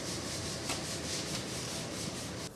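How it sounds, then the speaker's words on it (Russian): Old oak columns in a historic palace are sanded professionally, giving a steady close abrasive rubbing that continues unbroken for a couple of seconds before easing slightly at the end. "С помощью профессионального шлифования можно подчеркнуть красоту фактуры древесины и восстановить ее естественный цвет."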